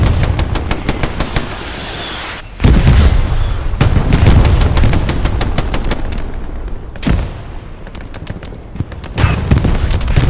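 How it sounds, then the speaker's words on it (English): In a Hell Let Loose battle, loud rapid gunfire rattles on and on while heavy booms of incoming artillery land near and far and echo out. "Still a good bit of Artie coming down."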